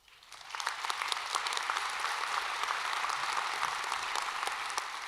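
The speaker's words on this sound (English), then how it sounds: "let us greet with applause Dr. Danny Anderson, Trinity University's 19th president." Audience applause at a Trinity University winter commencement ceremony greeting the university president, swelling quickly into a sustained, even roar of clapping from a large crowd heard at a distance.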